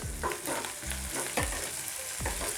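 Green chillies fry in a pan while a coconut egg curry is being made, giving a close, steady sizzle with a few louder crackles and stirring scrapes.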